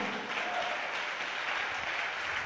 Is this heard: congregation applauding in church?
yes